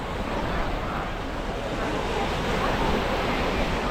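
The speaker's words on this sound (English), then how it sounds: "enjoying the waves of the sea." Continuous roar of surf washing on a shore at Dhanushkodi, Tamil Nadu, India, broad and steady, with wind buffeting the microphone throughout.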